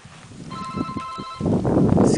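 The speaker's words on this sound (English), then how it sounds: "My phone's ringing." A mobile phone rings on a ski slope at a snowbowl in February, a steady tonal ring pattern heard at moderate level beneath wind and outdoor noise, followed by louder rustling and movement.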